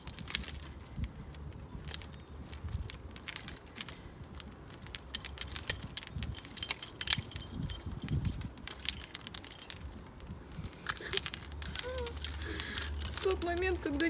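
Car keys jangle and clink near a Rocket Bunny BMW E30 being prepared for paint, with restless metallic rattling over most of the stretch and people talking in Russian under it.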